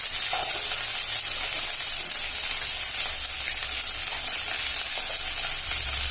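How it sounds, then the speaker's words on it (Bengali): Onion and spices fry in hot oil in a pan, a loud, steady hiss of sizzling that carries on close up and unbroken, with no talking. "তেলের ভিতর পেঁয়াজ দিয়ে দিয়েছি"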